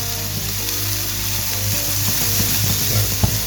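Spring onions sizzling in a pan for a chicken, chorizo and white bean cassoulet, a steady close hiss with small crackles and a few utensil knocks, no voices.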